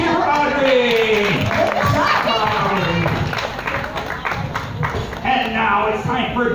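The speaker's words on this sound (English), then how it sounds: "A big cheer for Audrey!" Crowd cheering and applauding at a state fair science show in Florida, a steady burst of clapping and shouts that swells then eases slightly, with voices mixed in throughout.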